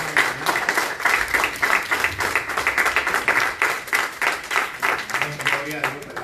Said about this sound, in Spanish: Usted le puede dar un fuerte aplauso al Señor